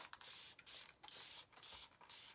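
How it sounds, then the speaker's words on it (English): An aerosol spray paints a primed wooden sign in a series of about five short, close hissing bursts, each separated by a brief pause. "we're spraying a little bit because this has already been primed"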